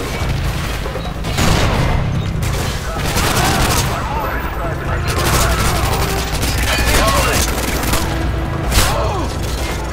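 Gunfire in Call of Duty Modern Warfare 2, with dense, sustained rapid-fire bursts and booming explosions that roll on loudly and close through the whole stretch, while voices call out beneath the shooting.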